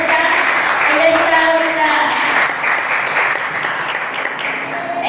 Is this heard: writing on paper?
no